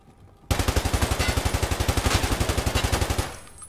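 Automatic gunfire in Escape from Tarkov: a sustained rapid burst of about thirty evenly spaced, loud, close shots lasting around three seconds before cutting off, with no talking.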